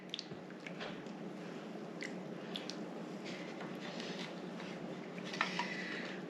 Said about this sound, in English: We're gonna agitate the water.